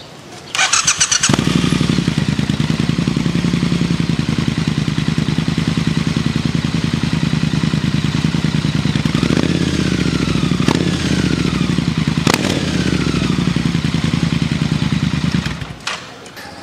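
A modified Triumph Bonneville T120 motorcycle fitted with an expensive aftermarket exhaust starts with a clatter and then idles loud and close with a deep, throbbing, steady rumble, with a few sharp blips, before shutting off.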